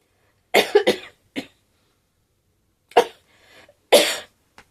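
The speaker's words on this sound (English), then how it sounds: "I'm sorry that you've had to listen to me cough." A person coughs in bursts, first a quick cluster of two or three hacking coughs and then two more single heavy coughs after a pause, close and loud against silence.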